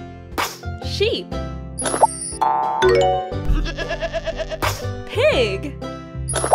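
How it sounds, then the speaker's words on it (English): Several wavering sheep bleats sound over a busy, playful backdrop of dings, plops and chiming tones, with bright effects between the calls. "Sheep."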